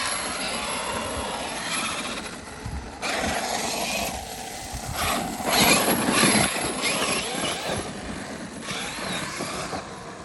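A Traxxas X-Maxx RC truck fitted with PR Racing Mod 1.5 gears runs nearby, giving a loud, continuous whirring drivetrain whine with a metallic ring that surges and fades as it accelerates.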